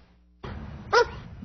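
A police K-9 dog gives one short, sharp bark midway through, close and clear over steady outdoor background noise.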